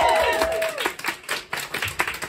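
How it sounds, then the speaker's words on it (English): Audience clapping at a live comedy show, a dense burst of applause that starts full and then thins into scattered claps, with a voice briefly audible over it. "Give a round of applause here to Craig, ladies and gentlemen."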